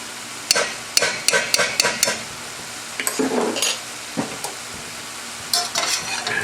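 Lobster in black bean sauce stirred in a hot pan, with a close run of sharp utensil scrapes and clacks against the metal over a steady sizzle, a pause, then a few more stirs.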